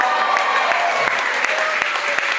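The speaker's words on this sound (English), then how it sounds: "a big round of applause" Audience at a magic show breaks into a lively round of clapping, a bright, dense burst of applause that fills the room for a couple of seconds.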